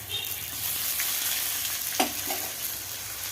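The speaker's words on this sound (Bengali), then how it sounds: "আবারও নেড়ে ভেজে নেবো ভালো করে" Chilies, garlic, chopped onion and ginger paste being stir-fried in a pan for a pea-leaf greens dish, a steady oily sizzle with a few sharp scraping stirs of the spatula, close and alone.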